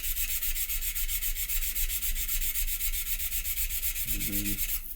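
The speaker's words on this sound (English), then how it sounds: "sanding at about 45 degrees" Hand sanding of styrene filler at about 45 degrees, a steady, close, rasping rub repeating in quick even strokes throughout, with a short knock near the end.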